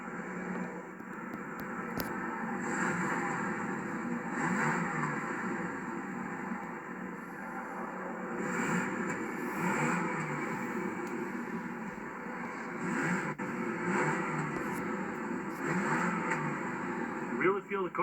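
A 1991 Chevrolet Caprice Classic engine running and being revved, a moderate rumble rising and falling in repeated rev swells, with a person talking over it at times.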